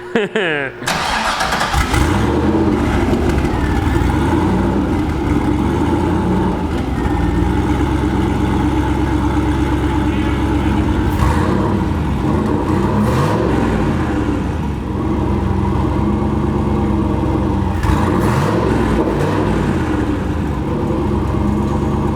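A big-turbo LS6 V8 engine in a Volvo sleeper fires up abruptly and then runs with a loud, rough idle and occasional blips of revs, close by, with voices talking over it.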